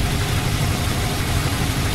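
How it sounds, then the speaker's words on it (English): A 1949 Ford coupe's flathead V8 with a 6-volt system and new exhaust idles smoothly and steadily, a low, even rumble heard close up with no talking. "You can barely hear this flathead run."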